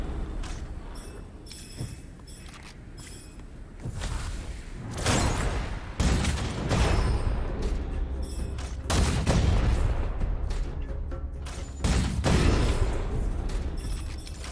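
A tiger cannon fires in the shooter video game Gunfire Reborn, loud booming bursts at irregular intervals, each a rough blast that rings off briefly, layered over a lower bed of game sound.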